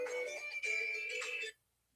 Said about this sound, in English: Girlfriend's ringtone